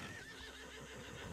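A horse whinnies in the Red Dead Redemption 2 video game, a short, faint neigh over a low rumbling game background lasting just over a second.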